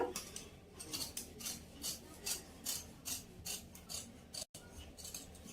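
Scissors snip through fabric while shaping cowl sleeves for an umbrella frock, a steady series of about a dozen quiet, regular cuts with a brief gap near the end, no voices.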